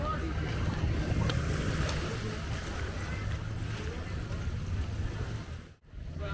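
A boat motor drones low and steady over splashing sea water and wind buffeting the microphone, crossing from Mutun Beach to Tangkil Island, Lampung, with a brief muffled dropout near the end.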